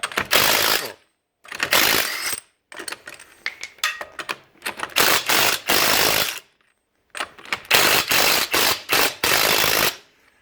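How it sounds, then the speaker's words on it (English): A pneumatic rattle gun loosening the front wheel nuts on a Ford Territory SZII, loud close bursts of rapid hammering separated by short silences. "loosen the nuts on the front wheel"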